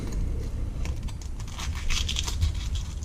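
A knife crunches through crispy air-fried KFC-style chicken coated without oil, giving a close, crackly run of crumbling snaps and rustles that keeps going for a few seconds with no voice over it.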